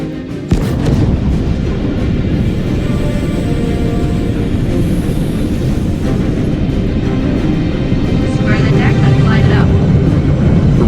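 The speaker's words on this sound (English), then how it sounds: "Ready and hold on as you're launched off the deck of the carrier." A spaceship launching off a carrier deck in the Star Citizen video game gives a loud, sustained rumbling roar that builds and holds for about ten seconds, with radio-style voices talking under it.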